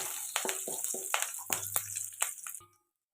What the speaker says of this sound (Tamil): கொஞ்சம் கருவேப்பிலை போட்டுக்கலாம் கருவேப்பிலை கொஞ்சம் பொரியட்டு